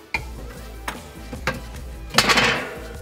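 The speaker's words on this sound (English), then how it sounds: "I'm gonna add a grill grate." A metal grill grate set onto a rotisserie grill, giving a few close metallic clanks spaced apart, then a louder rattling scrape as it settles into place.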